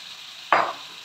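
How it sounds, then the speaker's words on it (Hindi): Pre-fried chicken pieces hit hot, oil-rich masala in a kadahi, a sudden sharp burst of sizzling that flares loudly for a moment and then fades back into a soft background hiss. "अब हम इसमें डाल देते हैं चिकन सारा जो फ्राई करके रखे हुए थे"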